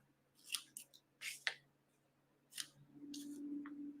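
Scissors trim paper for a handmade craft card, giving several quiet, close snips in an uneven sequence over a faint low hum.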